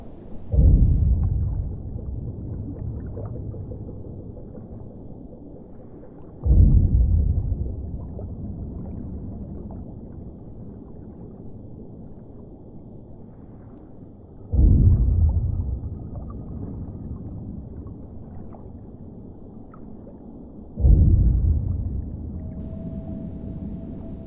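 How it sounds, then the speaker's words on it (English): Low underwater rumbling hum from an oil platform, with deep thumping surges repeating every several seconds, steady mechanical drone filling the background. "Here is the sound of an oil platform."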